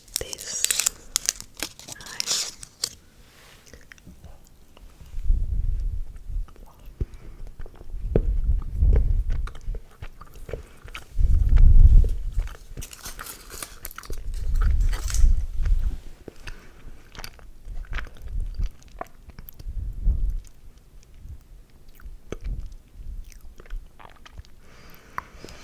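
Halloween milk chocolate candy being chewed close up, with soft crinkly bites and wet mastication in repeated bursts, quiet whispered asides between.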